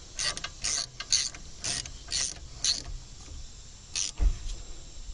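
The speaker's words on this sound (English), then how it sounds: "Okay, now we're tightening our two screws." Hand ratchet tightening caliper screws during front brake replacement on a Ford Taurus, a series of close, crisp clicking bursts in quick uneven strokes, each a short rattle of pawl clicks, with a brief clunk near the end and no talking.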